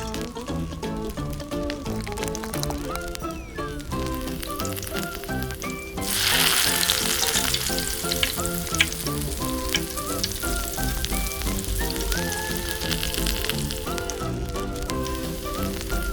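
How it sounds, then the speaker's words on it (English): Steady crackling sizzle of miniature purple potato sticks frying in hot oil, growing louder partway through, with upbeat background music playing the whole time. "Frying time."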